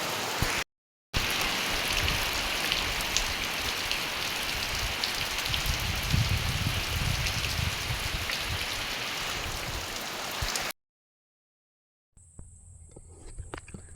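Steady rain patters down on surfaces in a dense, even hiss for about ten seconds, broken by brief silences near the start and end.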